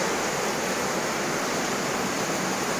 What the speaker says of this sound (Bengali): দেখো কি পরিমাণে জল ঢুকছে এই দিক দিয়ে এই জায়গাটা দিয়ে